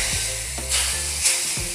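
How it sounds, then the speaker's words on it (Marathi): Roasted semolina poured into boiling sugar syrup, giving a steady steamy sizzle and hiss with a couple of brief surges as it lands, close and without talk. "तर आपण ना यात भाजून घेतला रवा आहे ना तो टाकूया."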